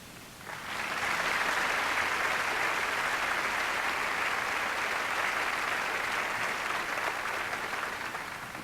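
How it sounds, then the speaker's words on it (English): An audience at a 1993 teacher awards ceremony applauds the teachers, a dense, steady wash of clapping that starts suddenly and holds at full strength for several seconds before easing slightly. "So I applaud you."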